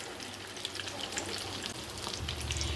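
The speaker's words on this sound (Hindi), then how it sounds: "इन्हें फ्राई करने में बहुत ज़्यादा देर नहीं लगती" Cheese Chinese kebabs fry in hot oil with a steady, soft sizzle and scattered crackling pops, heard up close and alone.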